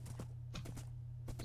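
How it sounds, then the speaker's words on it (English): Horse hooves clip-clopping in the video game Minecraft, a few quick clustered taps over a steady low hum, faint and brief. "Spawned it and I'm on the horse."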